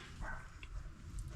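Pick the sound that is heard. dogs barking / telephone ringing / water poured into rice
dogs barking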